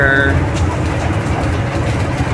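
Inside a moving MRT metro train, a steady, loud low rumble of wheels and motors fills the car, with a brief tonal chime near the start.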